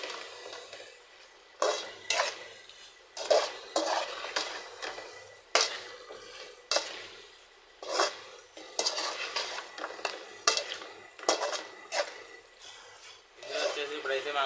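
A spoon stirs chicken curry in a pan after chicken masala is added, giving repeated scraping and clinking strokes against the metal with soft pauses between them, close and clear, with a faint sizzle underneath.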